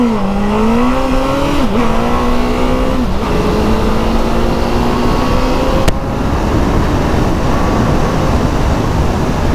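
Stock street fighter motorcycle accelerating hard, its engine note climbing steadily through several quick gear changes, loud and close throughout with steady wind rush and no talking.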